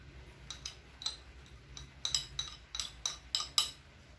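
Spoon clinking against a bowl while stirring pempek dough mixed with garlic and salt, a quiet run of light metallic taps speeding into a busier cluster near the end.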